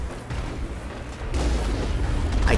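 Secondary cannon fire in the Mass Effect video game, a heavy booming blast that swells partway through and rumbles on loudly to the end.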